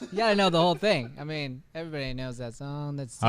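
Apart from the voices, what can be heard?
No everyday noise stands out behind the speech.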